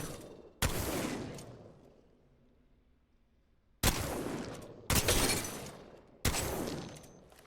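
Four booming shotgun blasts ring out in Apex Legends, fired from the hip and while aiming down sights. The first stands alone, then three come in quicker succession, each sharp and loud with a long decaying tail.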